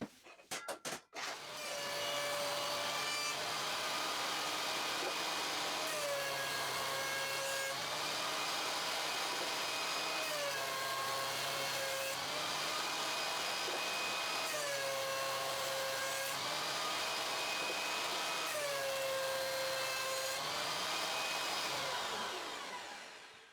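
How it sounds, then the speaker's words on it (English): A wood planer makes a few quick passes over a wooden board to square it, a loud continuous machine whine with the pitch dropping each time the cut starts, repeating in several cycles with no talking. "a few quick passes on the opposite sides on the planer got it square on all sides"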